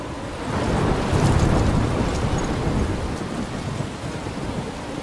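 Steady heavy rain with rolling thunder in the Life is Strange video game storm, a dense continuous roar with low rumbling swells, fairly loud and unbroken throughout.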